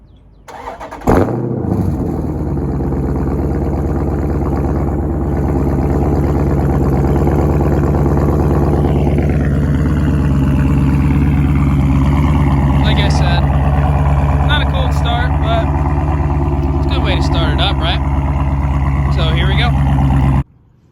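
A 2017 Dodge Charger R/T Scat Pack, already warm, catches with a sharp start and then settles into a loud, deep, steady idle close by, running alone for nearly twenty seconds before it cuts off.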